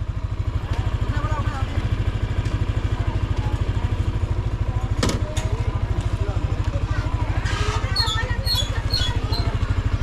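A parked motorcycle engine idles close by with a steady, rapid low putter throughout, while people talk over it and a brief clatter cuts in midway.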